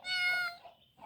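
A cat gives one clear, fairly loud meow up close, followed by a fainter short trailing sound.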